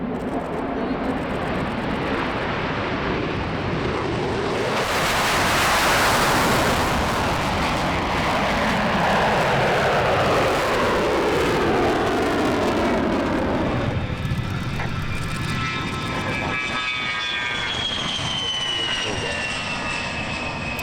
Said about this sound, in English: We begin here with a rare 4-ship US Air Force heritage flight.